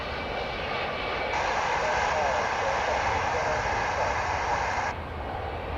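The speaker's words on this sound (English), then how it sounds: "we've got a polar DHL coming in through the sun" A Polar DHL cargo plane arrives at DFW Airport, producing a steady, broad jet roar that swells slightly and then eases, heard continuously with no pauses.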